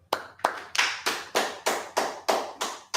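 Congregation at a Sabbath service clapping in unison, about nine loud, evenly spaced claps in a steady rhythm, with no talk.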